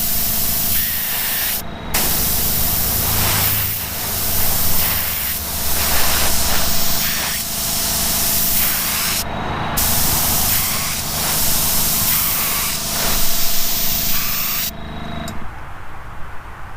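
Spray gun laying a wet coat of paint on custom Gulf racer models, a loud steady hiss of air running for long stretches with brief pauses between passes.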